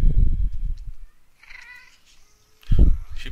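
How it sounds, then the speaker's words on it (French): A cat meows from beneath a stair landing indoors, giving two thin, drawn-out cries in a quiet gap between stretches of a man's nearby speech. "Il miaule sous le palier."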